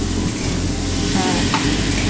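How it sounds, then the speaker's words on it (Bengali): Fried elephant foot yam and potato pieces sizzle loudly in a pan with spices, a continuous close fry with repeated scraping stir strokes, no voices. "সুন্দর করে এটা একসাথে সব আবার ভেজে নেওয়া হচ্ছে বা কষিয়ে নেওয়া হচ্ছে মশলার সাথে।"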